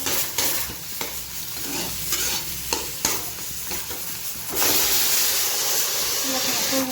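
Vegetables fry in a pan as a utensil stirs them, bringing scraping clicks over a steady sizzle that grows louder and hissier toward the end, with faint voices in the background.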